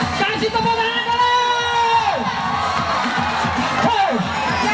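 A village crowd at an Independence Day contest on 17 August cheers, whoops and shouts with children's voices, loud and lively and close by, with people talking throughout; the cheering is plain, but clapping is less distinct.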